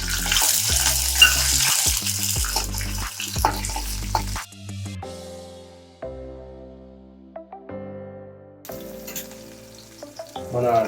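Garlic and chopped green chillies fry in hot oil for a homemade pizza sauce, giving a close, steady sizzle. Part of the way through, tonal background music takes over, and the frying is hard to pick out under it.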